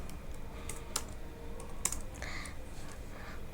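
Code being typed on a computer keyboard, a steady run of quick soft keystrokes with a few sharper clicks, close and quiet with no talk.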